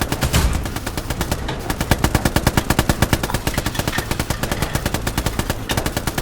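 Automatic gunfire from the World War II shooter Hell Let Loose, a loud, close, rapid string of shots in a steady rhythm that runs for several seconds with no talking over it.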